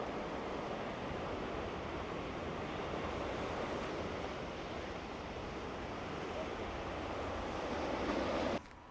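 Waves roll steadily onto a black sand beach at Valle Gran Rey on La Gomera, a continuous broad wash of surf with some wind, with no voices, cutting off abruptly at the end.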